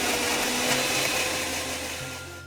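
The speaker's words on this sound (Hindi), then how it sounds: "इसको हम मिक्सी में पीस लेते हैं" A mixer grinder blending chutney whirs steadily at close range, a continuous motor drone that eases slightly toward the end.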